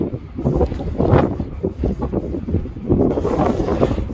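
Wind buffeting an outdoor microphone near an active volcano, a continuous low rumbling roar that swells and eases in gusts, loud and close with no voices.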